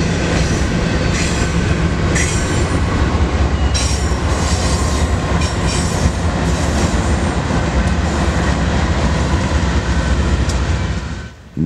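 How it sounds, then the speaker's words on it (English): A long intermodal freight train of over 200 cars rolls past close by in Galesburg, Illinois, a loud continuous roar of wheels and rattling cars with occasional squeals, fading slightly at the very end. "This intermodal is a mega train, likely stretching close to 3 miles long, with more than 200 cars."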